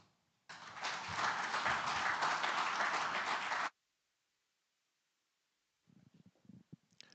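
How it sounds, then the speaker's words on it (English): Audience applause at a skills forum, a dense burst of clapping lasting about three seconds that stops abruptly, followed by silence and a few faint later sounds. "Can we give him a big round of applause one more time?"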